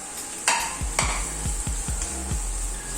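Green chillies being sautéed with garlic and ginger in a pan, a steady soft sizzle with a spoon scraping and stirring in repeated strokes, close and moderately loud.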